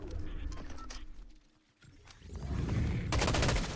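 Gunfire in a Fortnite trios cash cup match, bursts of shots crackling through busy game noise, dipping briefly midway and swelling louder toward the end.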